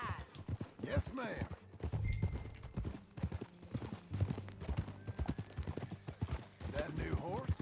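Horse hooves clip-clopping in Red Dead Redemption 2, a steady rhythmic trot of hoof strikes close by, interleaved with characters talking and a brief whinny-like sound.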